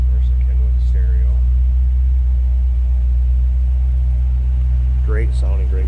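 A 1957 Chevrolet Bel Air convertible with a 700R4 transmission idles steadily, its low engine rumble settling down from a high idle, a continuous close drone with faint background sounds.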